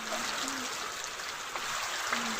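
Rainwater running through a village after a heavy downpour, a steady broadband rush of flowing water, continuous and fairly close with faint trickling tones, no talk.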